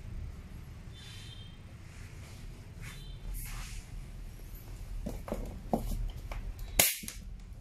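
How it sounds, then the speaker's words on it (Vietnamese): An air blow gun on a 24-litre Total oiled air compressor lets out short hissing bursts of air over a low background hum, ending in one sharper louder blast. "bây giờ mình sẽ dùng súng mình bắn thử"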